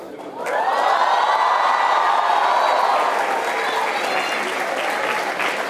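A large audience applauding at NED University of Engineering and Technology, a sudden swell of dense clapping that holds steady and loud for several seconds with some crowd cheering mixed in.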